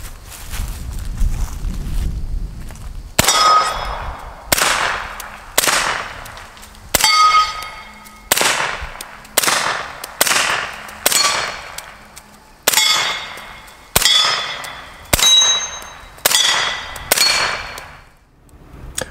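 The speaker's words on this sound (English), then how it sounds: "this one is going to be a little louder than it should be because it is supersonic bullets instead of subsonic" A suppressed rifle firing supersonic bullets outdoors in Louisiana, about a dozen sharp, loud cracks spaced a second or two apart, each with a ringing decay.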